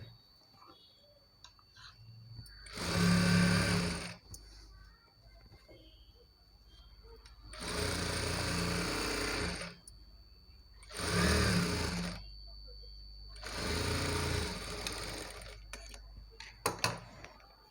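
A sewing machine top-stitches the frills on a Punjabi dress pant in four loud bursts of steady whirring, each a second or two long, with quiet pauses between them.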